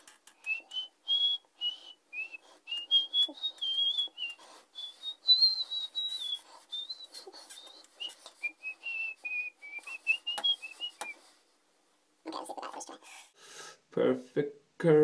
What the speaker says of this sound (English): Maybe I should blow my whistle really slow.